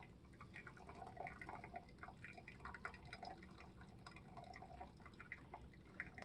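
Pour-over coffee drips steadily into a container, a soft continuous trickle with faint patters and no talking.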